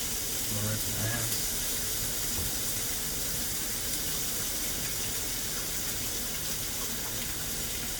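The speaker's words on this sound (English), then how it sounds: "Well, I'm gonna rinse my hands." Water runs from a kitchen faucet as hands are rinsed beside a stove where bacon cooks, a steady hissing gush with a few faint clinks at the start.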